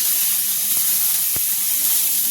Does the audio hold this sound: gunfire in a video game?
no